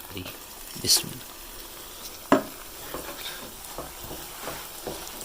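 Makhandi halwa being stirred in a pan with dry fruits, with soft scraping strokes and a couple of sharp utensil clinks against the pan over a low sizzle.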